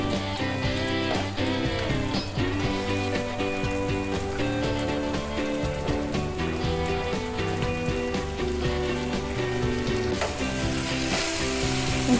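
Kothu parotta with egg and onion is stirred and fried in a pan, producing a constant close sizzle with occasional scraping under background music.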